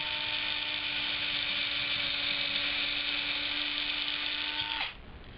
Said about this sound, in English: and just drill into it